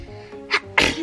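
A single sharp sneeze, a quick breathy intake followed by an explosive burst, close and loud.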